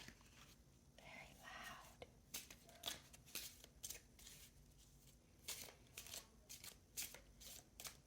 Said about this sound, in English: The raven outside, the cards shuffling, my seat creaking underneath me.